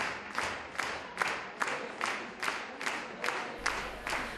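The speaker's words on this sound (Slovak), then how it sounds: "o to väčší však zožali potlesk" An audience applauds after a majorette troupe's performance at a Teachers' Day gathering, a steady, fairly faint rhythmic clapping in unison, about two to three beats per second, heard from a distance in a hall.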